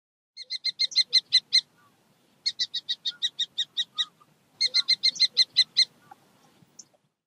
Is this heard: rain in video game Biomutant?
no